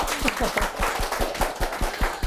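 Audience applause at the opening of a Korean lecture show, a steady run of claps across the whole stretch, moderately loud and fairly close, with a little voice faintly underneath.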